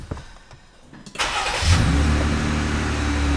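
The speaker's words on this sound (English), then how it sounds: "Let's start the engine, see if it works." After a quiet moment with faint clicks, a Jeep Wrangler engine cranks and catches after battery replacement, then settles into a steady, loud idle nearby.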